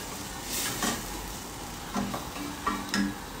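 Curry paste cooking out in a pan, giving a continuous close sizzle and frying hiss, with a few brief stirring scrapes and bumps rising above it.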